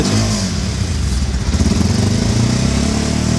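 A second-hand motorcycle engine idles steadily and loudly up close, with a dense low rumble and a slight rise in revs partway through, on a street in Dhaka.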